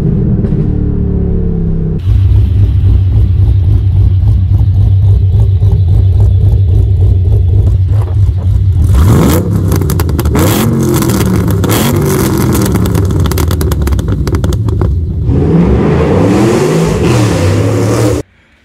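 A forged LS3 V8 car engine idles loudly with a deep rumble, then revs hard in a burst of rising roars, drops back, and revs again before cutting off near the end, close and with no talk.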